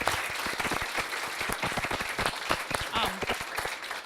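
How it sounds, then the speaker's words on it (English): Steady applause for conference panelists from a room full of people, dense overlapping claps throughout with a few faint voices mixed in. "Let's give our panelists a hand for all of their contributions."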